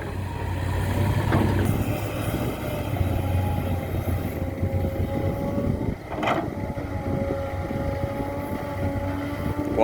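A Kobelco SK200 excavator's Mitsubishi diesel engine drones steadily with a low rumble and whining tones, shifting pitch as it works, with a brief metallic clank midway.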